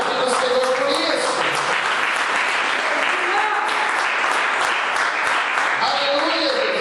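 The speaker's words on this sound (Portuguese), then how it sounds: "Vamos aplaudir o Senhor por isso." A church congregation applauds in a loud, dense wash of clapping that holds steady throughout, with voices calling out beneath it.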